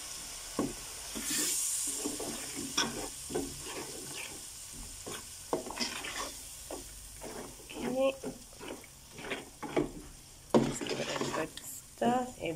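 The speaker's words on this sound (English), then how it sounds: "Gonna give it a stir." Grated tomatoes and curry leaf stirred into a frying South Indian fish curry, a sizzling pan with repeated scraping strokes of a spoon, close by, with a voice speaking briefly.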